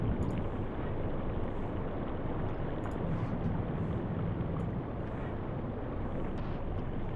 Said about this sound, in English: Some tiny engine noise.